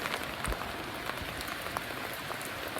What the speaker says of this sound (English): And pouring down rain.